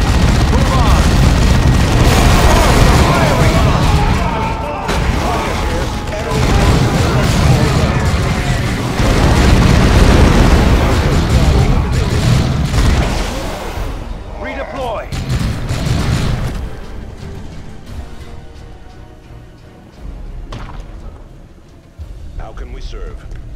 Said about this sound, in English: Explosives going in!